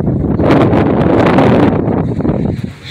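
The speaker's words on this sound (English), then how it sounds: "Every time I come up here, it's windy as shit." Strong wind on the Gettysburg battlefield buffets the microphone in loud, rumbling gusts, easing briefly near the end.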